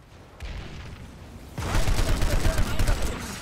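Rapid gunfire in the online shooter Planetside 2 bursts in loudly after a quieter opening, a dense crackle of shots that continues to the end.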